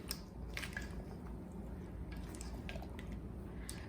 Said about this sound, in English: now we're just going to sort of fold them into the dressing